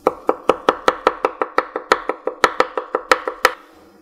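A knife slices garnish into thin strips for beef short rib soup, about fifteen crisp, even knocks on a cutting board in a steady rhythm, close and clear with no talk.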